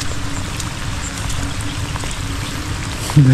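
Steady pouring water splashing down from above onto a muddy farm field during a typhoon, a constant close rush with a faint trickle, no talking.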